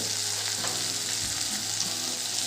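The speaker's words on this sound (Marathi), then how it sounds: "कारल्याच्या चकत्या तेलात छान परतून झाल्या आहेत" Slices of bitter gourd sauté in hot oil, giving a dense, steady sizzle that stays loud and close throughout, with faint stirring scrapes underneath.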